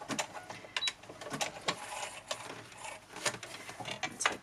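Sewing machine over-stitching a fabric journal cover, a fast continuous mechanical rattle with rapid needle clicks, steady and fairly close.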